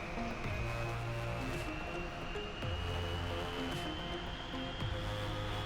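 Jet engine in a flight simulator game spooling up, a steady whine rising gradually in pitch over a low rumbling roar, with repeated low tonal surges, continuous and moderately loud with no talking.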